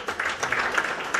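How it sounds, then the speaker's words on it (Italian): Brief, fairly soft applause from an audience at a book presentation in Parma, a quick flurry of clapping with individual claps standing out. "Il protagonista Antonio Tacete può prendere il suo doveroso applauso"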